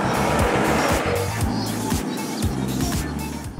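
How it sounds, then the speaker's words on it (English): A 2005 Bentley Arnage T being driven, its engine a steady low rumble throughout with road and tyre noise, rising and dropping slightly as it shifts, fairly loud and close with no talking. "why are we driving a 2005 Bentley Arnage?"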